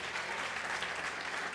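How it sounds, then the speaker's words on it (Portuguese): A church congregation, standing, applauds for Jesus: an even wash of many hands clapping, moderately loud and steady through the brief moment, with no voices standing out. "póngase de pé, dá um aplauso a Jesus"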